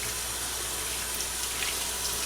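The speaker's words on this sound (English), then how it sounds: "we're actually going to add a bit more water here" Water pours steadily into a washing machine on a delicate laundry cycle, a constant close rushing hiss with no voices.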